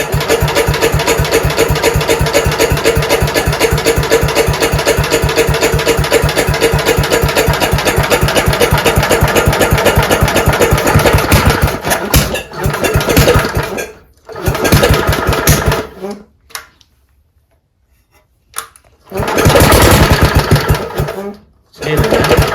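A Bolens Ride-a-matic garden tractor engine runs loudly with a rapid, rough putter, then cuts out and stutters through a few dropouts and near-silent gaps before catching again at full roar.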